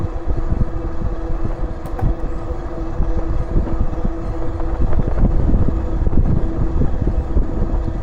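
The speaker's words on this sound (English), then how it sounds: "A little bit windy out here right now." Steady wind buffets the microphone while riding an e-bike at around 28 miles an hour, a continuous low roar filling the whole stretch with no talk.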